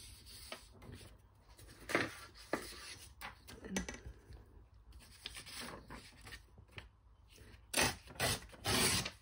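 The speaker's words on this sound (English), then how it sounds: "And I just use a ruler to tear the paper." Paper is torn against a ruler's edge during envelope crafting, giving faint, quiet rasping and ripping strokes in short irregular bursts, with a few louder tears near the end.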